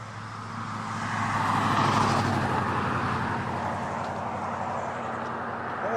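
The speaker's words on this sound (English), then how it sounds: "the traffic noise kind of drowned it out for me." Steady road traffic roar on Cordova Bay Road, heard while running alongside it: a continuous broad rumble that swells as a vehicle passes nearby and then eases slightly, with no voices.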